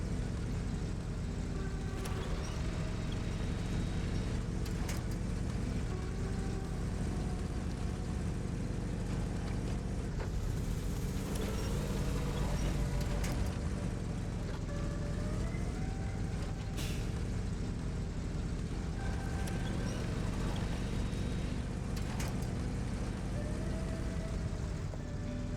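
A heavy off-road truck in SnowRunner labors through deep mud, its engine droning steadily and loudly for the whole stretch, with shifting revs, whining tones and occasional hissing bursts layered over a thick low rumble.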